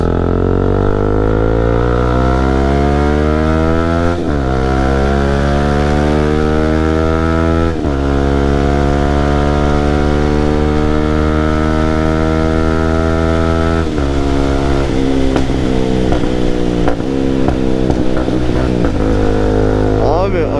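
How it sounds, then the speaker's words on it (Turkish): A Kawasaki NK250 motorcycle with an aftermarket Akrapovic exhaust revs up and down repeatedly, loud through the open exhaust, with crackling pops as the throttle drops. "aşırı derecede patlatıyor doldurduğunda egzozu"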